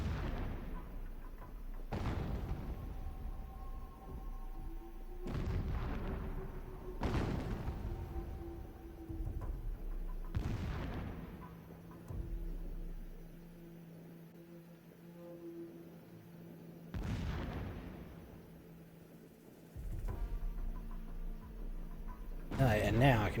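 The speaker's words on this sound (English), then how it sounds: "And now I can hear fireworks going off." Distant Sydney New Year's fireworks thump and boom in irregular bursts, each a deep muffled blast with a fading rumble, heard through a room over a low steady hum.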